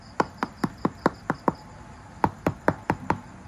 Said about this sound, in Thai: ผมเคาะด้วยมีดนะเสียงมันลมหลวมก็เลยแยกไว้